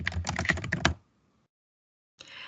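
Quick close-up typing on a computer keyboard, a rapid burst of keystrokes for about a second, then silence, then typing resuming.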